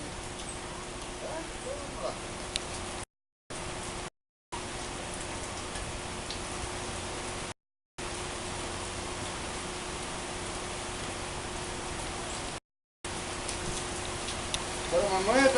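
Steady rain falling outdoors, a soft continuous hiss with faint ticking drops, fairly quiet and even throughout, interrupted by a few short gaps.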